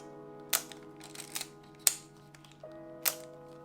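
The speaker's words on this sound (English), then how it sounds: "The lens extends and then you just twist it to lock it into place." A Canon 650 35mm film camera gives sharp mechanical clicks as its lens extends and twists to lock, then the shutter fires. Three distinct clicks are spread over a few seconds, close up, against a faint steady hum.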